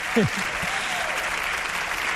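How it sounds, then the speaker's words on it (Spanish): An audience applauds a guest speaker, Jesús Callejo, at a congress talk, a steady wash of clapping throughout with a brief voice at the start. "os pido un aplauso para Jesús Callejo"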